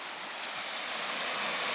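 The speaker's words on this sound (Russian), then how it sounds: "Море." Sea surf washing onto a sandy beach after a storm, a steady, broad roar of breaking water heard up close without pause and swelling slightly toward the end.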